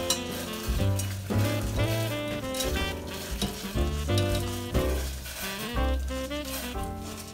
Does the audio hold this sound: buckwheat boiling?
yes